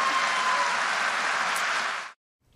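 An audience at a presidential campaign event applauds in a dense, loud burst of clapping that holds steady for about two seconds, then stops abruptly.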